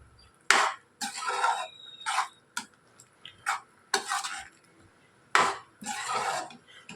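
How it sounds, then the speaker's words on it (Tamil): Ridge gourd kootu with tempering being stirred in a pan, a series of loud scraping, clattering strokes in irregular bursts with short quiet gaps between them, close up and with no talking. "இப்போ இதோட சேர்த்து நல்லா கிளறிடலாம்"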